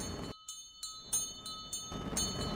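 A bell in the video game The Quinfall rings in a few repeated bright strikes with lingering metallic tones, heard clearly with no voices.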